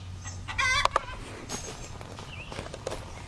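Chickens cluck softly nearby in short bursts, with a few brief calls and light rustling against a low background hum.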